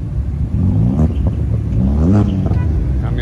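A huge pickup truck drives past on a highway, its engine rumbling loud and close, then swelling to a stronger roar about two-thirds of the way through.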